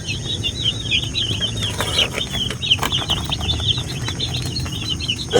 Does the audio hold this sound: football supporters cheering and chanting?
no